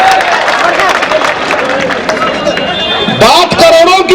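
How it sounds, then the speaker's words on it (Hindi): An audience clapping at a political rally in Aurangabad, dense applause and crowd noise under someone shouting into an amplified microphone, with a louder burst of clapping near the end. "ठोको ठोको ताली ठोको"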